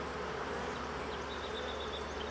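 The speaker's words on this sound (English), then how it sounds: "There's a bee coming out right here." Honeybees buzz close by around a honeycomb as a bee emerges from its cell, a steady, faint droning hum with no talk.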